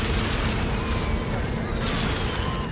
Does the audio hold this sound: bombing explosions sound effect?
yes